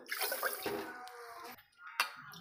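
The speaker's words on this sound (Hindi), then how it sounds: "देखिए हम इसी कटोरी से इसमें डालेंगे चार कटोरी पानी।" Water poured from a small bowl into a deep cooking pot while making rasgulla syrup gives a splashy rush, a brief pause, then a shorter second splash, close and fairly soft.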